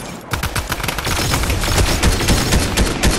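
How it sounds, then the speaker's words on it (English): Dense, loud gunfire in a Fortnite squads match, rapid overlapping shots and bursts in a continuous barrage for the whole stretch, with no voices over it. "Oh gosh, I'm being shot."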